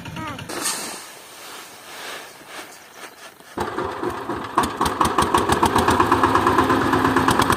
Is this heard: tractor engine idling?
yes